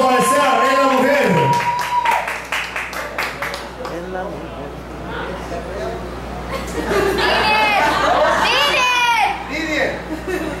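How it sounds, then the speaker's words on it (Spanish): A round of clapping at a karaoke competition for a singer, strongest early on, then fading into lively chatter and children's voices. "Aplauso para Esteban,"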